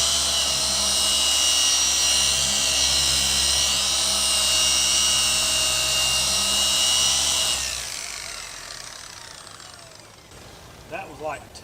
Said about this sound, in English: That was like 2 seconds of buffing, and it's already pulled up to a shine.